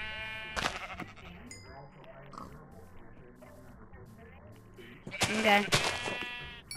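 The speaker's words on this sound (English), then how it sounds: "I see a couple sheep" A couple of sheep in Minecraft PlayStation 4 Edition bleat with short wavering calls, one early and a louder one near the end, under casual voice-chat talk between players.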